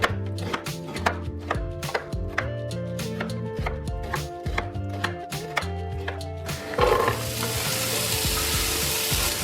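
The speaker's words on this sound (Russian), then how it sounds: "Лук порежу средними кубиками." An onion diced into medium cubes on a board beside a pan of heating vegetable oil: a run of sharp, evenly paced knife chops up close, then a loud continuous sizzle as food hits the hot oil.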